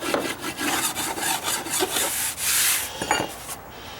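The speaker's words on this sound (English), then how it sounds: "Smooth side of my rasp." Steady back-and-forth rubbing of the smooth side of a rasp along a wooden deck stair edge, close and loud in repeated strokes, with no talk.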